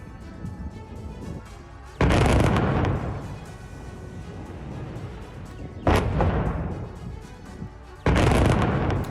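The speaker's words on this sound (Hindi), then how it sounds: "इजरायली सेना ने रॉकेट लॉन्चर से हमला किया।" Israeli army rocket launcher fire striking a refugee camp: three sudden loud booming blasts, each cutting in abruptly and rolling off into a long rumbling tail over a steady background din.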